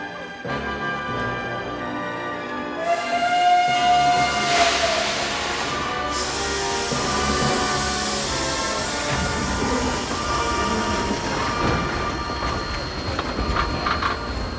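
A steam train rumbles along with a long whistle or horn blast and squealing wheels, continuous rolling noise throughout with a few faint background sounds.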